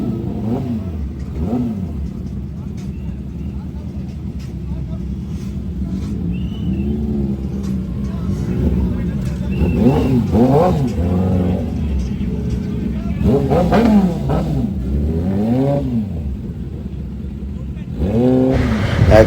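Superbike engines rev at a Triumph showroom opening in Vizag, their loud, close revs rising and falling repeatedly while people talk over the engine noise.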